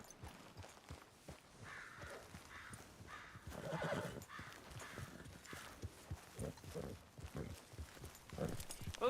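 A horse whinnies in Red Dead Redemption 2 while hooves clip-clop at a steady walking pace, moderately close, with faint voices in the background.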